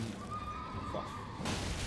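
A horse whinnies in Elden Ring during a mounted boss fight at night, one drawn-out neigh over steady game ambience, followed by a louder burst of combat noise near the end.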